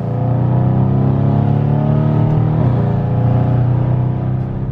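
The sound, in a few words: tuned Mercedes AMG C63 with downpipes driving off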